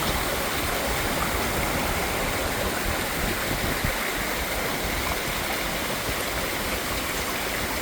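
Floodwater rushes along a stream during flooding in Laos, a loud, steady, close roar of flowing water with no pauses.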